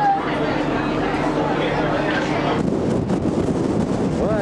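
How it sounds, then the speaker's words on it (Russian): Strong wind buffets the microphone outdoors near the water at Buenos Aires in June, a loud, continuous rushing roar with gusty surges, and people's voices mixed in beneath it. "Вай-вай, какой ветер."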